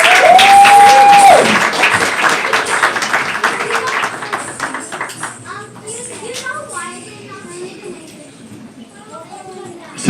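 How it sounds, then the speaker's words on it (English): An audience at a Diwali 2025 gathering claps, loud at first and then tapering off. Voices, including children's chatter, carry on underneath as the applause dies away. "Another big round of applause, please."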